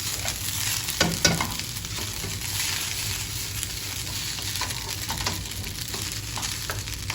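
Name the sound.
chicken stirred into noodles in a pan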